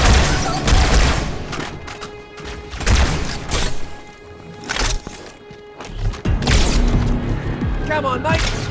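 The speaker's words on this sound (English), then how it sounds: "I love the SMG, you can just completely spam it, but at the same time you burn through ammo so quickly" Rapid automatic SMG fire in Halo 2 Anniversary, loud bursts of dense shots recurring in several waves amid explosions and game effects, with a voice talking over parts of it.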